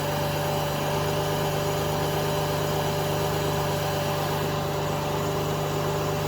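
A Subaru SVX engine idles steadily after an oil and filter change, a loud continuous hum with a constant low drone and no change in pitch throughout.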